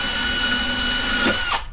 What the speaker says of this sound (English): Going to start out drilling some pilot holes